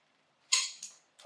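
A torque wrench gives one light, crisp click while K20 cylinder head bolts are torqued, then a fainter second tick follows. The room is otherwise quiet.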